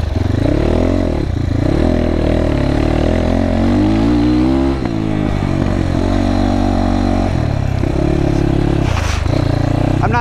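A GPX FSE300R motorcycle pulls away from third gear, its engine note rising steadily and loud throughout, with a brief dip midway before the revs climb again.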